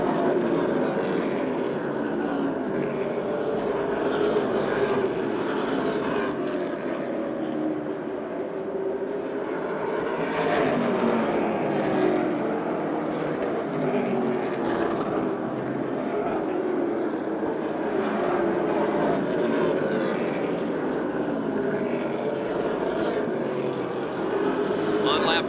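Race cars run three wide down the front straight at Motordrome Speedway, a continuous droning engine roar that swells and fades slightly, with a commentator talking over it throughout.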